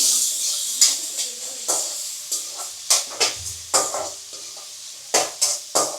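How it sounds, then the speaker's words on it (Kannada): Chopped onions fry for beetroot palya in a pan over a low-medium flame. A soft sizzle runs beneath steady, rhythmic spatula scrapes and stirs that repeat close by, with no voices. "ಇವಾಗ ಆನಿಯನ್ ಹಾಕ್ತಾ ಇದ್ದಾರೆ. ಇವಾಗ ಫ್ರೈ ಮಾಡ್ಕೊಳ್ಳೋಣ ಚೆನ್ನಾಗೆ."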